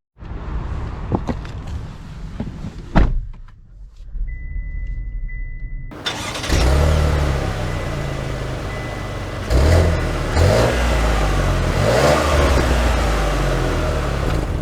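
A 2023 GMC Acadia Denali SUV starts up and pulls away, its engine rising steadily as it accelerates, with broadband road and wind noise building and a few louder surges of throttle, no talking.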